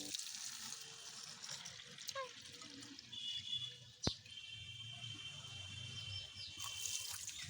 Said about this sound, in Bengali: তো এর জন্য দীপা আমাকে জলটা ভরে দিচ্ছে।